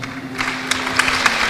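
A university faculty audience at a talk show applauds Rhoma Irama with scattered, fairly close claps in uneven bursts over a steady low hum.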